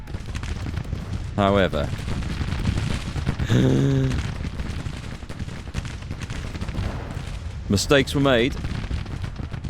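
Rifle and artillery fire from a Civil War battle in the video game Grand Tactician rumble as a continuous low din of distant gunfire, with someone talking over it at intervals.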